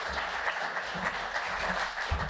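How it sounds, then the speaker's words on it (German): Applause from a gala audience, steady, even clapping from many hands filling a large hall, with a faint low murmur beneath. "Applaus"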